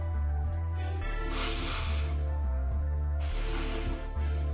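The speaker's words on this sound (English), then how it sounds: "I gotta blow my nose, excuse me." A person blows their nose in two long, loud, breathy bursts, close up, with short pauses between and a steady low hum underneath.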